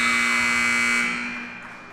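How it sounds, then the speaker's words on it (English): A long steady buzzer sounds at the end of the first half of a high school JV girls' basketball game, loud and sustained for about a second before fading into the gym's echo. "Running out of time, and that's the buzzer."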